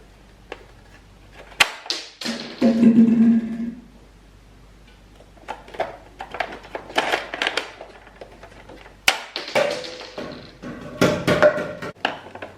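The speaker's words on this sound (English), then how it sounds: "It is loaded using this bolt, and here's the trigger." A 1964 Johnny Seven One Man Army toy gun being worked, with sharp plastic clicks and clacks from its bolt and trigger arriving in irregular bursts, close and fairly loud.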